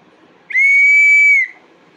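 A toy two-in-one whistle blown once in a single steady, shrill, clear tone lasting about a second, loud and close, with quiet surroundings before and after.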